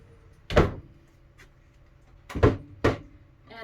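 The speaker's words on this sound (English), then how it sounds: "when I'm pulling them out, I'm lifting up and out" Deep storage drawers in the galley of a 55 ft yacht being lifted and pulled, three distinct close wooden knocks and slides, one alone and then two in quick succession, with a faint thud between.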